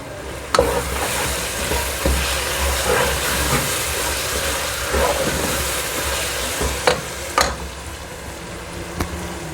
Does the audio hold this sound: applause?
no